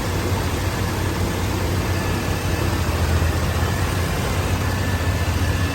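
A 1990 GMC K1500 pickup's 350 5.7-liter V8 engine idling, a steady low rumble with constant hum, running quietly and evenly close by.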